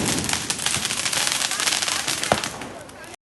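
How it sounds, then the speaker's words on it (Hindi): Firecrackers burst outdoors during a Diwali celebration with dense, loud, continuous crackling and popping that fades slightly toward the end. "उसके बाद हम लोग बाहर चले गए पटाखे चलाने के लिए।"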